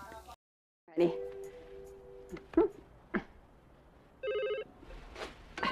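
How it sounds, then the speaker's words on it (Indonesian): A telephone rings for an incoming call in short electronic bursts of tone, separated by brief pauses and mixed with faint clicks and rustles in a quiet room. "Namun ada telepon masuk."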